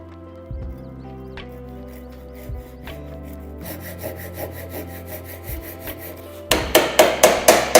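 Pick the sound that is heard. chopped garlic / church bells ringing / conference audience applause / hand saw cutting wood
hand saw cutting wood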